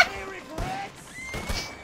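Horse neighing in a video game, a short whinny with a rising and falling pitch that sits among game sounds and excited voices talking.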